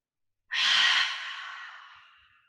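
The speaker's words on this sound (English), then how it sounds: "Inhale, fill up the belly. Feel the heart and crown lift. Open the mouth to exhale." A single long cleansing breath let out through an open mouth, starting suddenly and loudly, then tapering into a soft, airy fade over about two seconds.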